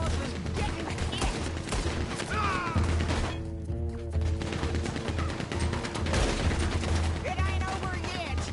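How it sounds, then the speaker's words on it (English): Rapid bursts of gunfire in a PS4 video game, dense and continuous volleys of shots with impacts, over game music and a talking voice. "I keep firing like that."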